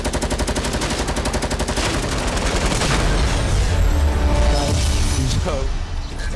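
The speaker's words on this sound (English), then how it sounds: "I hit him 3 times for 6 with the heavy rifle" Heavy rifle firing in Fortnite, a loud, rapid stream of shots in quick rhythm for several seconds, close and continuous, with an in-game voice near the end.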